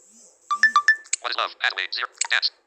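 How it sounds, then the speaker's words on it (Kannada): A short electronic ringtone melody of a few bright tones, followed by a busier chiming tune playing clearly up close. "ಇದೊಂದು ರಿಂಗ್ ಟೋನ್ ಪ್ಲೇ ಮಾಡಿಸ್ತೇನೆ ತೋರಿಸ್ತೇನೆ ನಿಮಗೆ"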